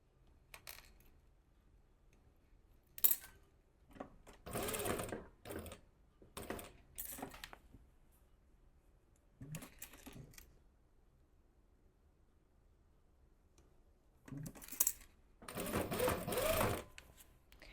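A sewing machine stitches a blouse seam in several separate runs, from short bursts to longer steady whirring stretches, close and fairly quiet with pauses between.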